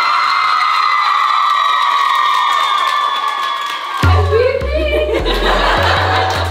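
A crowd of girls erupts into shouting and cheering partway through, loud and close, after a sustained tonal hum fills the first stretch; the cheering continues as a dense mass of voices to the end.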